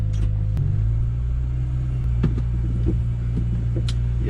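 An Acura RSX with an upgraded shifter on a test drive gives a steady low engine rumble from inside the cabin. A few faint clicks and knocks sit over it, and no one speaks.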